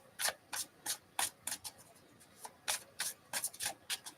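Tarot cards being shuffled by hand in a live reading, a run of quick papery riffles and slides in uneven bursts, close and fairly quiet with no talking.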